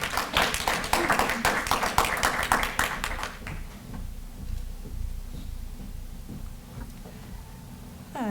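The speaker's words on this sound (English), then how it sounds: "so give her a round of applause as she comes up" Audience at a student literary journal reading claps for a student reader coming up, a brisk burst of many hands for about three seconds that quickly thins to scattered taps and then quiet room noise.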